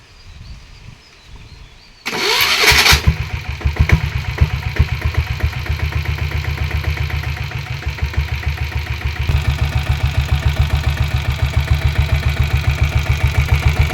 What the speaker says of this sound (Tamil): செல்ஃப் போட்டு காட்டுற பாருங்கள்.